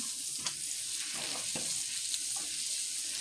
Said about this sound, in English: So I'm going to start by melting the butter.